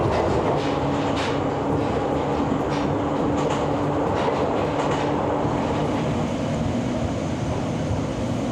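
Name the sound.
train on the Ohmi Railway line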